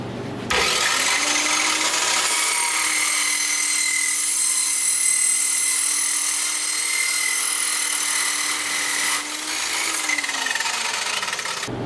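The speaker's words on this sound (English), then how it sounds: "That cold cut saw is the truth, man" A cold cut saw slices through exhaust tubing for a custom WRX-swapped 2.5RS rally car exhaust, giving one continuous loud, close metallic grinding whine of about nine seconds that starts and stops abruptly.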